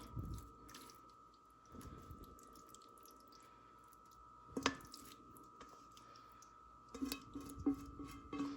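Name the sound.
slopping noises of salmon mixture being spread for sushi bake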